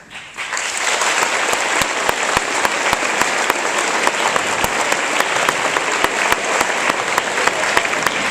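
An audience at an awards ceremony breaks into loud, even applause that swells quickly and holds steady as a thick wash of many hands clapping together.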